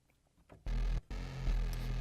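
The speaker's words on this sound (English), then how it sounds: "you can hear it already doing the Reese thing" A wide Reese bass patch in Serum with unison set to five voices swells in after a quiet start, a thick, sustained low drone that briefly cuts out and then returns, fairly loud and alone.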